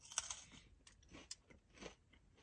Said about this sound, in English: let's see if there's a good crunch still